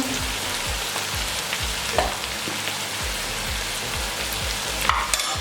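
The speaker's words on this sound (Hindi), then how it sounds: "अब इसको अच्छे से भून लेंगे 2 से 3 मिनट के लिए" Chana frying with salt and red chilli powder in a pot, a loud, steady sizzle broken by repeated scraping stirs and a few clanks from the spoon. No one speaks.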